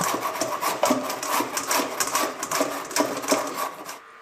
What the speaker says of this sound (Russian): Морковку трем на терке.